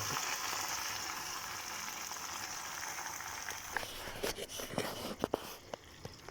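Freshly washed, still-wet vegetables fry in hot oil with a dense, steady sizzle that grows busier toward the end, as sharp clicks and scrapes of stirring break in.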